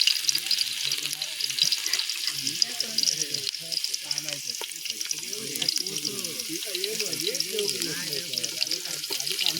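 Onion and garlic frying in a pan over an outdoor village fire until reddish, a dense continuous sizzle close by, with people talking throughout.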